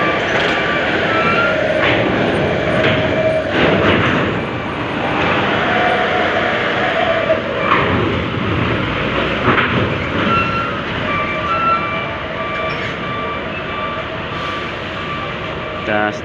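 Trucks rolling onto a ferry at Merak port, with a continuous rumble of engines and heavy machinery, clanks and scattered beeps in a noisy dockside setting, and people talking underneath.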